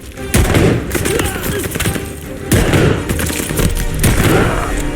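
Gunfire from a rifle in the Call of Duty Vanguard Stalingrad mission, loud bursts of rapid shots with booming impacts, one sustained volley followed by another.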